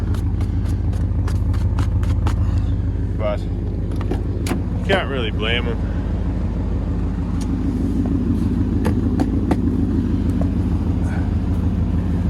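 A 1980 Chevrolet Bel Air wagon's engine gives a steady low rumble with a throaty exhaust drone through a new muffler, loud and close, while someone talks over it and a few clicks sound.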